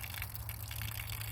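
Water squeezed through a Sawyer squeeze filter gives a faint, steady trickling gush, close and unbroken, alone without talk.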